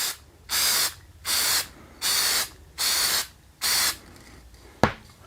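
Dry Moly Lube aerosol sprayed onto metal parts from about a foot away: five steady hissing bursts of roughly half a second each with short gaps, close and clear, followed by a sharp click.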